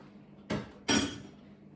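Tomatoes are dropped into stacking rectangular Lakeland plastic freezer pots, two quick clattering thuds close by in a quiet kitchen.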